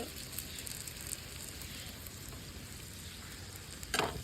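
Paratha frying in oil for a fried roti breakfast dish, a steady close, bubbling sizzle running throughout with a brief louder crackle near the end.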